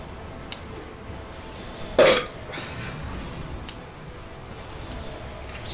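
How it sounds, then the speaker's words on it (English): A single loud burp after drinking Pepsi, a short throaty blast standing out against a steady background hiss, with faint ticks before and after. "I'm gonna make sure I burp as many times as I possibly can, and since this is Pepsi, mission accomplished."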